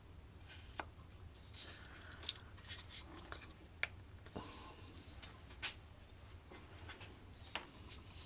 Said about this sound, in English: I'm going to make a cut perpendicular up to that cut I made with the pointed knife